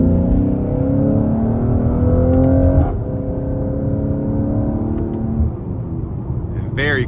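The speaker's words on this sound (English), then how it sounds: "You can hear the exhaust" A 2023 Mercedes-AMG GLC 43 Coupe with a twin-turbo V6 drones from inside the cabin while driving. Its exhaust tone climbs in pitch, drops at a shift, then climbs again under a speaking voice.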